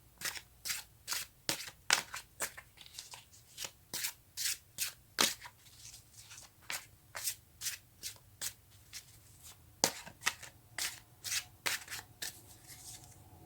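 Tarot cards riffled and shuffled by hand in a steady run of crisp, papery bursts, close and fairly quiet, with no talking.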